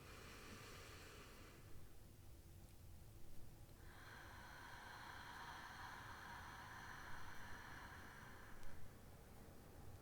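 Slow, deep breaths during a guided calming exercise, each long airy inhale and exhale drawn out over several seconds, soft and close with quiet gaps between them.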